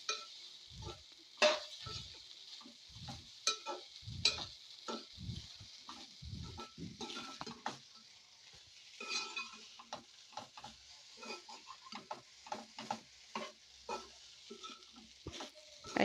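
A spoon or spatula scrapes and stirs rice with garlic and chili powder in a pan over a low flame, giving irregular scraping strokes with soft clatter and faint sizzling, close-up and without talk.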